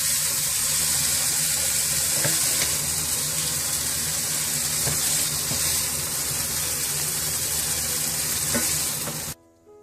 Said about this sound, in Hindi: चिकन को आपने तेज आंच पर फ्राई कर लेना है।